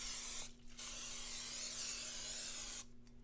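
Cooking spray hisses from a can as a pan is greased over a kitchen sink, one long steady burst of roughly two and a half seconds after a brief short spray, close and clear with no talking.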